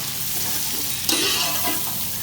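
Sliced onions fry in a pot for chicken biryani, a steady loud sizzle throughout that surges briefly with stirring partway through, with no voices.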